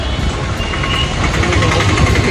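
An arriving motorbike sends out a continuous engine rumble that holds steady and grows slightly stronger toward the end, mixed with outdoor background noise.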